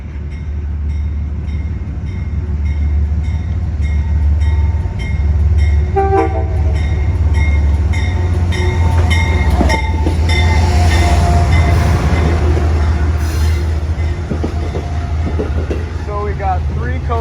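An Amtrak P32 diesel locomotive pulls a passenger train into a station at close range, its heavy engine droning while wheels squeal and clank and a horn sounds briefly.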